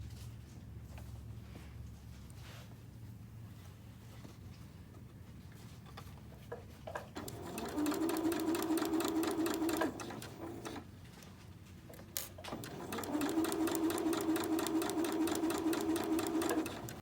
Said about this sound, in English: Now I'm going to sew 1 line down the middle of the ribbon.